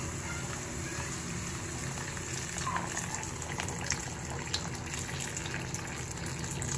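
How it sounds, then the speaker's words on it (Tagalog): Hot water pours into a pan of cooked ground meat for a budget miswa dish, a continuous close splashing gush that runs evenly throughout with small bubbling bursts. "Maglagay na tayo ng mainit na tubig."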